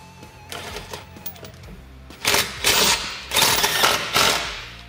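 A self-tapping screw with a washer goes into a Can-Am Defender skid plate, with a few light clicks followed by several loud whirring bursts from the driver, each a second or so long, close up.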